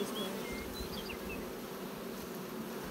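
Honey bees buzz continuously around a hive, a dense, low hum with individual insects droning past nearby.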